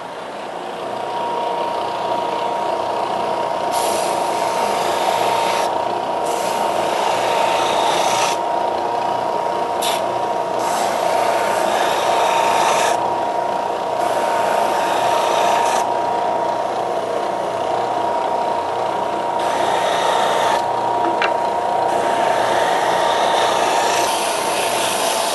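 Steady hand sanding or rasping on a homemade wooden cake lifter, a continuous loud scratchy rubbing with a few short pauses over about twenty-five seconds.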